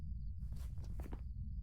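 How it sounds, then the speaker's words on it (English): Ghost footsteps in the horror game Phasmophobia: a brief cluster of soft, quick steps, faint against a low steady hum, with no one talking. "First we want to listen to footsteps"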